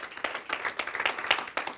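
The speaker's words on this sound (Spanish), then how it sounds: "Es ofrenda de palmas al Señor." Church congregation clapping as an offering of praise to the Lord, a brief stretch of dense, uneven hand claps rising and falling in the hall with no speech over it.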